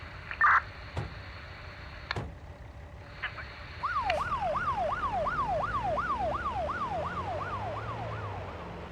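An ambulance siren in the BeamNG Drive driving game wails in a steady rising-and-falling cycle, loud and close, after a few sharp clicks and a brief electronic beep.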